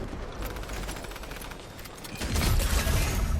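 A mythic shotgun fires in a video game amid a dense, noisy volley of gunfire, with a heavier, louder boom swelling near the end, and no talking.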